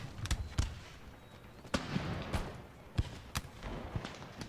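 Incendiary shots set a town ablaze in Empire Total War, heard as a series of sharp cannon-like bangs and crackling bursts at irregular intervals over a rumbling battle bed.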